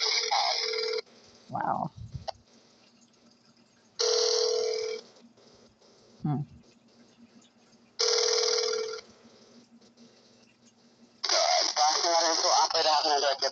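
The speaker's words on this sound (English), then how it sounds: "It sounds like a 1960s rotary phone." Four long ringing bursts of an old rotary-style telephone come at regular intervals, each about a second, with short exclamations and talk between and after them.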